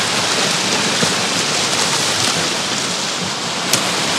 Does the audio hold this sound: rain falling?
yes